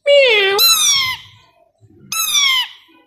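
A plum-headed parakeet mimics a cat's meow in two drawn-out, whiny calls separated by a short pause, sounding close and loud.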